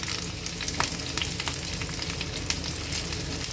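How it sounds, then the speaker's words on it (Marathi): Finely chopped garlic, seven or eight cloves, fries in hot oil in a pan for a fenugreek dish, a continuous dense sizzle that stays loud and close with faint crackles throughout. "ही थोडीशी लसूण भाजून घ्यायची आहे"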